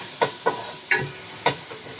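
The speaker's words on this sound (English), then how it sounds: "I'm just kind of sauteing it." Kabab mixture sautéing in ghee, with a few soft spoon stirs and scrapes landing at an uneven pace over a low, steady sizzle close by.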